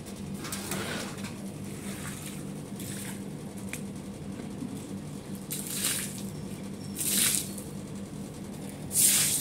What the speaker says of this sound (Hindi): अभी झाड़ू लग रहा है।